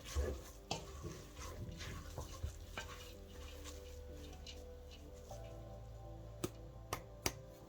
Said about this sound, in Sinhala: දැන් හොඳට කවලම් කරලා